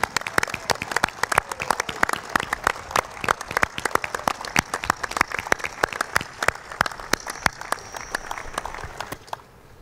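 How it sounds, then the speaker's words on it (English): Audience applause at a graduation baccalaureate Mass held in a cathedral, a dense run of many hands clapping steadily and loudly for about nine seconds before quickly dying away. "Let's give them a nice round of applause"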